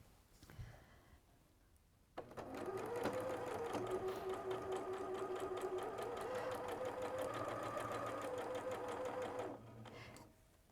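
Sewing machine stitching a quarter-inch seam on cushion fabric, a steady whirring hum that starts after a short pause and runs continuously for about seven seconds before stopping, close and alone.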